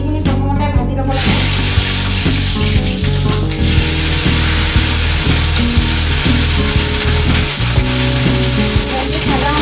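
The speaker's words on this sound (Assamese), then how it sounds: "ভেন্দিখিনি প্ৰথমতে ভাজি ল'ব লাগে।" Okra fries in plenty of hot oil, giving a loud, continuous sizzle close by, broken up by frequent clatters of a spatula stirring in the pan.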